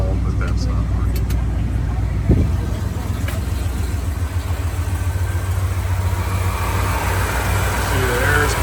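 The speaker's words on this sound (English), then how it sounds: "Let's take a listen to the engine." A 1979 Ford Bronco engine idles in a steady, low, continuous rumble close by, with a brief knock early on and a faint higher whine building toward the end.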